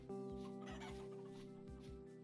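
Chickens in the farming game Vintage Story, led toward their pens, cluck repeatedly at close range over a steady low game hum, with several short clucks spaced irregularly and no talk.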